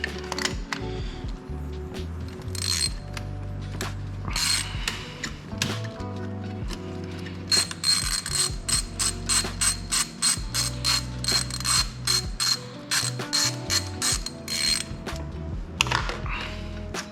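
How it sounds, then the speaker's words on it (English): A 3/8 ratchet with extension and angled spark plug socket clicks in rapid bursts while loosening a spark plug on a Kia Stinger GT / Genesis G70, close and loud with short pauses between runs of pawl clicks. "we've got our 3/8 ratchet with extension, a socket, angle socket, and our spark plug socket with angle on it as well"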